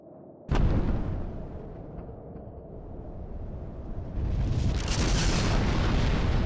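A sudden loud explosion in the video game Fuga: Melodies of Steel booms, then a deep rumbling roar continues and swells again, dense and heavy, with no voices.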